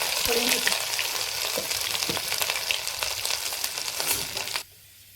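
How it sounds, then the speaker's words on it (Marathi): Garlic-ginger paste sizzles loudly in a hot pan of oil with cumin for an eggplant curry, a steady crackling fry with a few clinks and stirring scrapes, cutting off abruptly near the end. "त्याच्यामध्ये लसूण अद्रकची पेस्ट टाकणार आहे"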